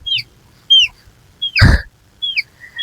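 A few short, high chicken clucks close by, with one louder squawking burst in the middle.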